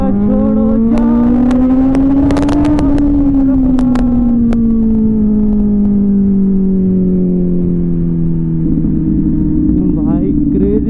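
Kawasaki Z900 motorcycle engine droning loudly at highway speed, its pitch climbing then easing off, with a few sharp pops from a hot engine backfiring early on and a voice talking over the ride.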